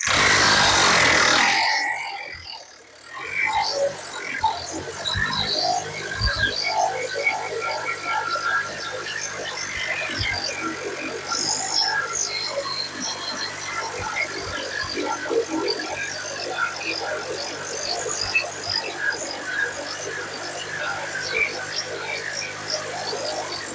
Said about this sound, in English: running the planish hammer and constantly stopping to check my radiuses